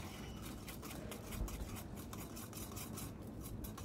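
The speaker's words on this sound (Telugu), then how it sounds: "అలా గరిటె పెట్టి తిప్పుతూనే ఉన్నాను" A ladle scrapes and stirs through hot frying oil and chana dal in a pan, giving a steady close rasping sizzle with no voices.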